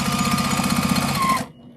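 A sewing machine runs steadily as it stitches a quilt table runner, with a fast rhythmic mechanical chatter, close and loud, that stops abruptly near the end.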